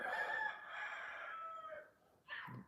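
A rooster crows one long drawn-out call from a short distance at a homestead, followed by a brief lower cluck.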